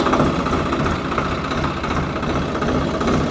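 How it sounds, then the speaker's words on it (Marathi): Tractor engine running close by, a loud, steady mid-pitched diesel rumble with a slight vibrating knock throughout. "चला चालू करू ट्रॅक्टर."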